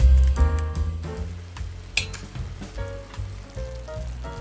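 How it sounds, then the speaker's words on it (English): Mushroom sauce with cooking cream being stirred continuously in a pan for ribeye steak, giving a steady sizzle with scraping utensil strokes and light clinks, close and fairly loud, no talking. "Stirring it continuously."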